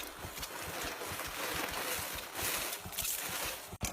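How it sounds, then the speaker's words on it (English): A puffer-style dry washer, its bellows driven by a 12-volt motor, keeps up a fast, steady rhythmic puffing and rattling in the desert. It runs nearby and fairly quietly with no talk over it. "I'm using a puffer-style dry washer."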